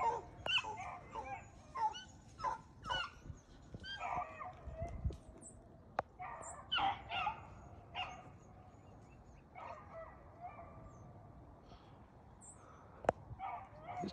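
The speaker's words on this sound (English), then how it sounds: "That's those other dogs making that fuss in that box." Dogs bark and yip in scattered bursts from inside a dog box, with some whimpering between, sounding slightly muffled and enclosed, with quiet stretches between outbursts.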